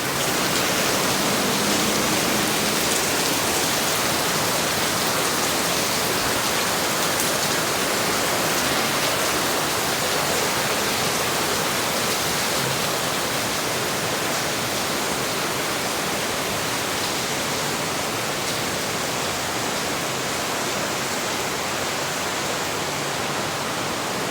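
Rain pours down at a Chinese temple, the klenteng Amurwa, as a dense, steady hiss that stays loud and unbroken for over twenty seconds, with no voices.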